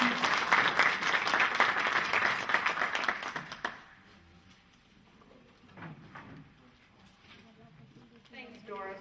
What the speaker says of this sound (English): give her your utmost of attention and applause